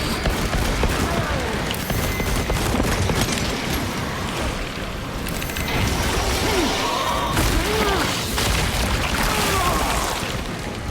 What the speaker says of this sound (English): Deploy frag grenades.